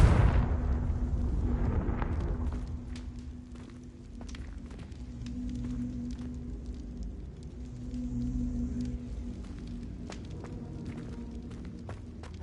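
A Confringo blasting spell explosion in Hogwarts Legacy on PS4 opens with a deep rumbling boom that fades, followed by scattered small pops, footsteps and a low lingering hum.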